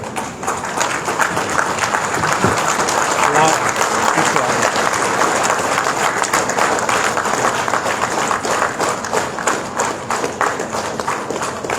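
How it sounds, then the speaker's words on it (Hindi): A seated audience rises and applauds at a political party's national executive meeting, sustained dense clapping from many hands, loud and continuous for several seconds, with a voice underneath. "अपने स्थान पर खड़े होकर ताली बजाकर उसका उनका अभिनंदन करेंगे"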